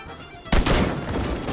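A single sharp shot cracks out abruptly in the Sang-Froid video game, aimed at a hanging net trap in a wolf-hunting scene, loud and close, followed by a ringing, noisy tail that lingers without speech.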